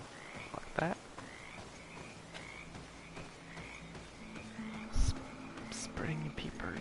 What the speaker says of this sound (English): Spring peepers.